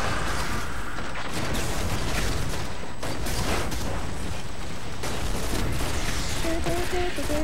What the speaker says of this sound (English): Leave it to me to shoot like everything except for the enemy.